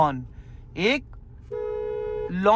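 A long, steady car horn blast sounds from a car being driven through a narrow lane, with a voice talking briefly before and after it.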